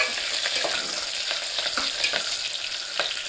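Sliced onions and green chillies frying in hot oil for potato curry, a dense continuous sizzle with scattered scraping stirs of a spoon, close and alone.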